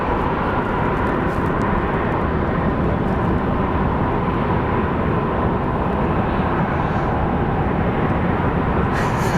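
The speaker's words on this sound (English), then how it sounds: "that's actually a 737 MAX that's headed to Santa Ana" A Boeing 737 MAX airliner at Phoenix Sky Harbor gives off a loud, sustained jet engine roar, broad and constant for the whole stretch, with no speech over it.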